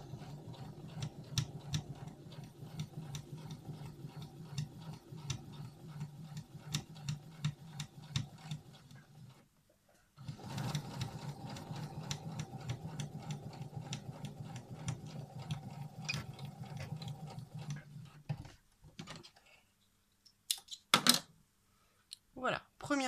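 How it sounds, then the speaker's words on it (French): Sewing machine running a straight seam on fabric 5 mm from the edge, a quiet, rapid ticking rhythm that stops briefly, resumes, then ends with a few clicks. "je vais venir coudre à 5 mm du bord"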